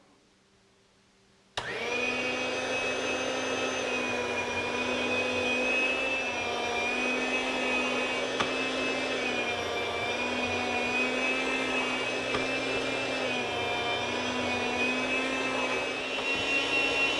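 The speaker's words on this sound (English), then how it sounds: "All right, so almost done slicing here." A meat slicer cutting homemade smoked bacon starts abruptly and runs as a loud, steady motor whine with a strong constant hum, holding unchanged for many seconds.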